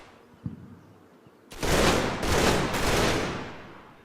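A machine gun firing in the video game Combat Mission: Battle for Normandy, three loud bursts of rapid fire in quick succession after a quiet moment with a small thud.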